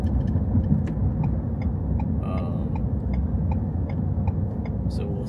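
Steady car engine and road rumble from inside a vehicle driving at night through lit streets, continuous and fairly loud, with faint ticking like a turn signal.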